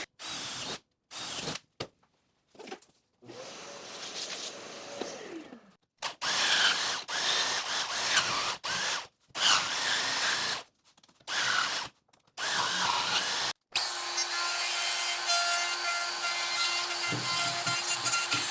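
A loud power tool with a thick blade runs in repeated bursts cutting grooves into fence-picket wood for a wine box, whining and grinding with brief pauses between passes, then a long continuous run.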